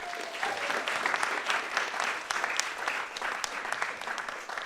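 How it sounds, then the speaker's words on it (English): Audience applause at an afternoon session of a retrofit housing event in Knowle West, Bristol; a moderately distant, steady round of clapping from a modest crowd lasting several seconds. "should we have a round of applause for Melis as well?"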